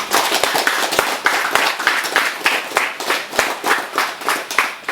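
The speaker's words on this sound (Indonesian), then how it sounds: "Tepuk tangan untuk kita semua." Students at an outdoor gathering by a beach clap together, a loud, close burst of many hands with rhythmic peaks roughly every quarter second, fairly synchronized and continuous throughout.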